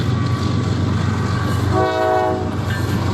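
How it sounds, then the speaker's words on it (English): A westbound Norfolk Southern intermodal freight train passes on a busy main line in northwest Indiana, giving a loud, steady low rumble with its horn sounding partway through. "Here is a westbound NS Intermodal, presumably bound either for NS Landers Yard or NS 63rd Street or Ashland Yard."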